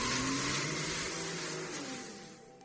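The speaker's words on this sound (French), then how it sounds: "La portière s'est refermée et la voiture a redémarré en trombe, furieusement." A car accelerates hard and speeds away, its engine roaring loudly at first, then fading gradually as it pulls into the distance, with no voices over it.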